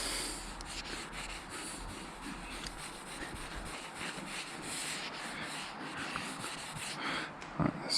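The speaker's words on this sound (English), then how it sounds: "for now we'll do this by hand. A little circular motion." A cloth polishing scratches out of a car's paint by hand, rubbing in steady circular motions; a continuous close, soft scuffing and swishing texture with no talk over it.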